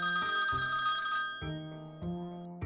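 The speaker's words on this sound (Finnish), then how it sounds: "Kohta työmaan johtaja Torsti saa puhelun." A toy-city telephone rings in short repeated electronic bursts, each ring a bright trill separated by brief pauses, loud and close with no talking.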